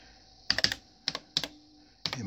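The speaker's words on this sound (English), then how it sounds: "So I'm just going to type in" Typing on a computer keyboard while importing files to a FreHD, quiet, close clicks in three short bursts with a longer run of keystrokes at the end, no talking.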